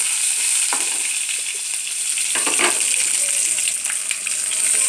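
Tempering spices, including dried red chillies, sizzle and crackle in hot oil, a constant bright hiss with scattered pops and a few brief clinks.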